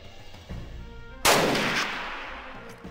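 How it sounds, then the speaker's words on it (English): A single loud gunshot in Jagged Alliance 2, a sharp crack followed by a long fading reverberant tail, with a faint softer thump just before it. "Let's go for a headshot."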